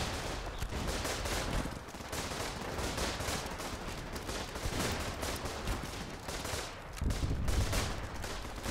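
Artillery and gunfire rumble steadily in the trench warfare video game Running in the Trenches, with dense, continuous crackling volleys. A heavier low boom lands near the end.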